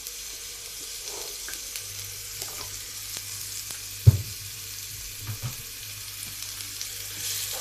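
Oil sizzles softly and steadily in a pan for a tomato dish. A few light knocks and one sharper clack of a utensil sound against the pan partway through.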